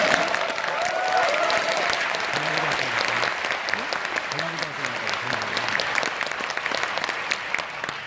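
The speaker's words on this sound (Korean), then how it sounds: "다시 한번 박수 부탁드립니다." A crowd at a political party concert in Jeonju claps in sustained, dense applause, loud and continuous throughout, while a voice talks over it now and then.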